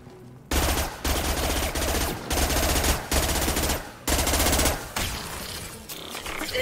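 Automatic weapon fire from the video game Mass Effect 2 comes in loud, sustained bursts of rapid shots, broken by brief pauses and repeated over several seconds.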